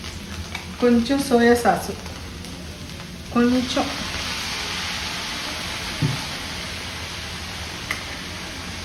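Chicken fried rice sizzles and crackles steadily in a pan over high heat, a continuous frying hiss with occasional stirring clinks, while a person talks briefly over it early on.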